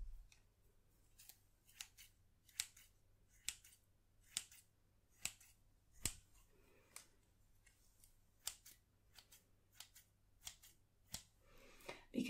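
Scissors snip again and again in crisp, quiet clicks at an uneven pace, close up in an otherwise quiet room.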